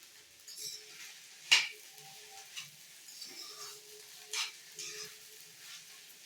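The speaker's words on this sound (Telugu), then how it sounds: "ఒకసారి మొత్తం కలబెట్టేసుకున్నాము." A spoon scrapes and stirs sago (sabudana) upma in a pan, with a few sharp clinks against the metal and soft scraping strokes between them over a faint sizzle, close and moderately quiet, no voices.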